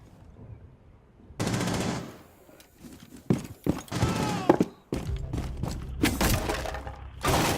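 Gunfire in Rainbow Six Siege, loud bursts of automatic shots in several separate volleys with short gaps, mixed with breaking and impact sounds, close and punchy.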